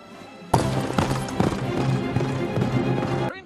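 Horse hooves clip-clop steadily at a walking pace on a castle courtyard in Arendelle, fairly close and loud, accompanied by orchestral music and no talking.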